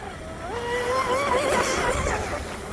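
A Proboat Miss Geico 24 RC boat's electric motor whines at about 16,000 RPM, its pitch rising and wavering as it passes fairly close over water, loud and steady with no voices.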